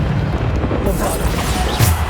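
A Bombarda explosion spell fired in Hogwarts Legacy, a loud, dense booming blast with heavy low rumble that fills the moment and ends in a brief flare of crackle.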